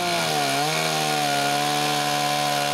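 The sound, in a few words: chainsaw mill cutting wood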